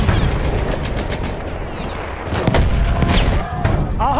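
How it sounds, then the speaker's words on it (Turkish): A Perino Model 1908 light machine gun firing in a video game battle at Achi Baba: dense rattling automatic fire mixed with other battlefield shots, steady and loud throughout. "Makinalı tüfek."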